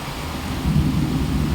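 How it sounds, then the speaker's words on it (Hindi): Heavy rain pours down steadily while low thunder rumbles and swells partway through, with no voices. "इतना तेज बारिश हो रहा है गाइस, बहुत तेज बारिश हो रहा है।"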